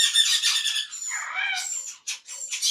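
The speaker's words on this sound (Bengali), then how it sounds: "এটা অ্যামাজন প্যারট" An Amazon parrot at an aviary lets out a run of shrill, close squawks and harsh calls, loud and alone with no talk, in several bursts with short gaps.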